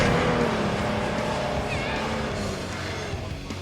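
A Jeep Wrangler with a 3.6-litre V6 drives over sand dunes, its engine a steady, loud roar that fades slightly toward the end.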